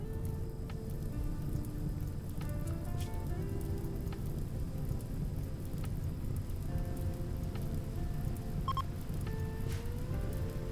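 Steady rain falling in the video game RimWorld, a continuous soft hiss at low level throughout, with faint sustained musical tones drifting underneath.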